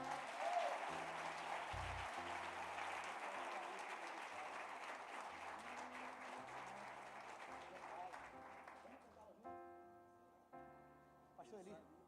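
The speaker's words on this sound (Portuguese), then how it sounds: "Aplauda a Deus pela vida do pastor." Church congregation at a worship celebration applauding: dense, sustained clapping from a crowd over music, fading out toward the end as organ-like tones remain.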